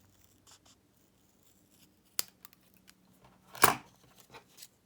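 Scissors trimming paper for a magnetic bookmark, a few faint snips and taps followed by one louder, sharper cut, close and quiet with no talking.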